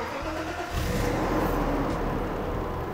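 A Mercedes C63 Black Series, parked in a garage, starts up and its engine revs, a steady loud rumble that swells midway and holds.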